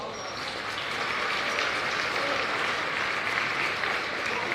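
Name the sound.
applause for basketball officials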